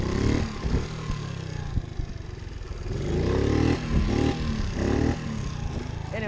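Pitbike engine revving in uneven bursts during wheelie practice, rising and falling blips close by and fairly loud, with rough throttle surges.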